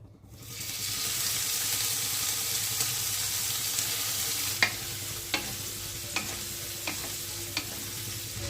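Shrimp coated in salt and turmeric dropped into hot oil in a pan, swelling into a steady, bright sizzle with a few sharp spatters and utensil taps near the end.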